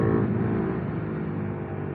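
Steady, loud road traffic and engine drone heard from a Vitpilen 250 motorcycle riding through busy traffic, a continuous broadband rumble with no talk.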